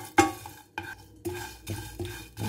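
Spices such as cinnamon bark being dry-roasted in a pan, heard as a few scraping stirs and light rattling strokes at an irregular pace, close and moderately loud, with no voices.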